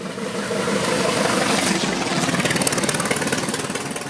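A 1908 Mors Grand Prix racing car engine runs at a steady, loud, close-up idle with a fast mechanical chugging pulse that firms up toward the end.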